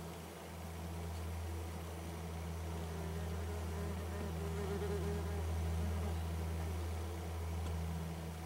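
Eastern yellow jackets buzz steadily at their nest inside a large, empty top bar beehive, a continuous close droning hum that holds even throughout, with no talk.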